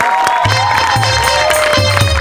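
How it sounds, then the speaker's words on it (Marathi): A studio audience at a Marathi comedy show claps and cheers for an ice-cream entrepreneur, a loud, dense burst of applause that carries on throughout with scattered shouts. "एकदा जोरदार टाळ्या त्यांच्यासाठी झाल्या पाहिजे."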